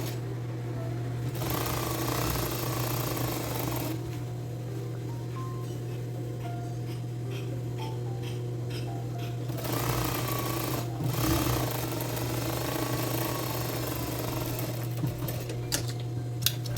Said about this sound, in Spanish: acomodo la tela y coso a 1 centímetro